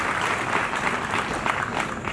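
An audience at a ceremony applauds the minister, a continuous, fairly loud wash of clapping hands with a slightly pulsing rhythm and no speech over it.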